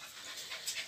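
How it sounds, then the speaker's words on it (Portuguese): Pit bull mix dogs pant softly, a few quick breathy puffs close by but quiet. "Aqui estão nossos mestiços de pitbull."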